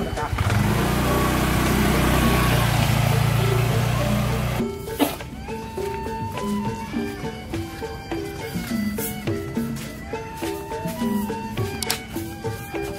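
A new motorbike's engine runs loud and close for about four seconds, then cuts off and gives way to people talking.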